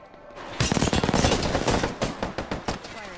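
Rapid automatic gunfire from a firefight in the video game Apex Legends, a loud, dense burst of shots lasting a few seconds before thinning into separate cracks.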